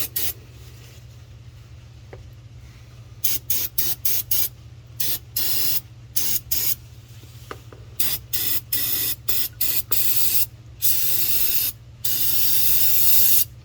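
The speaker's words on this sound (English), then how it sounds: "we're gonna give it a spray" Repeated bursts of aerosol brake cleaner spray hiss close by during an oil change on a 2019 Ford F-150 5.0 Coyote, short blasts at first then longer sustained sprays, over a low steady hum.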